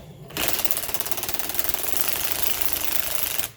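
A power drill or impact driver unwinds a bearing puller shaft while replacing a Pontiac G8 driveshaft hanger support bearing, whirring steadily for a few seconds at high speed, a rapid mechanical buzz, then stops.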